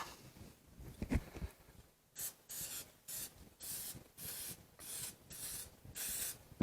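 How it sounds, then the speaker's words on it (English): Cooking spray hisses onto a muffin pan in about seven short, even bursts, close and fairly loud, each separated by a brief pause. "You want to spray your pan."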